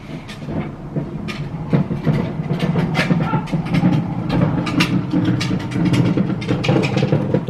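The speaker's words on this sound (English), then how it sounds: "He's putting the dumpster out." A wheeled dumpster being rolled outside gives a loud, continuous rumbling clatter with rapid uneven knocks and rattles, close by and without talk.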